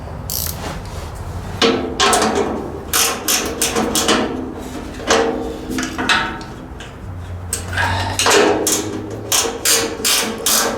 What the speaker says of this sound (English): Let's get a wrench on it.